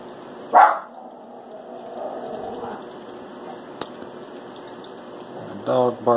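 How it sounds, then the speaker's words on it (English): A dog gives a single loud bark close by early on, followed by a couple of quieter yips near the end, over a low steady room hum. "Dog barking."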